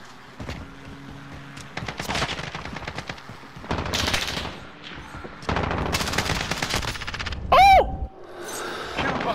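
Light machine gun fire in Call of Duty: Modern Warfare: several loud rapid bursts close by, separated by short pauses, with a brief high whistling tone near the end and no talk.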